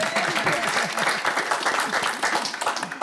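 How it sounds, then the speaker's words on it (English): Studio audience applauding steadily at a country music TV show taping, dense continuous clapping close up and filling the whole stretch without a break. "If you keep clapping, the show ain't gonna be long enough."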